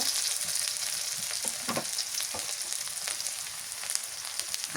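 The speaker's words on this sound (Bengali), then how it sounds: "বাটা দিয়ে দিলাম পেঁয়াজ বাটা জিরা বাটা" Onion paste and cumin paste frying in hot oil for a fish curry, giving a constant close crackling sizzle with occasional spits and pops, no talking.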